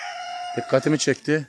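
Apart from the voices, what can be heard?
roosters crowing in a garden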